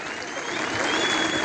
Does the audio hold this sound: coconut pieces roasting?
no